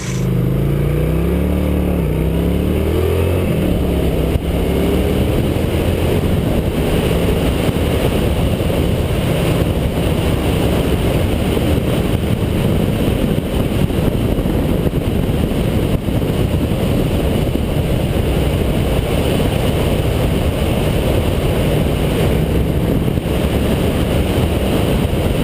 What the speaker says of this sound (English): That's actually a pretty throaty little engine.